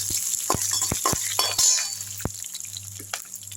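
Green chillies and toor dal sautéing in oil in a pan for a thoothuvalai thuvaiyal, with a steady close sizzle broken by sharp spatula clinks and scraping taps against the pan; no voices.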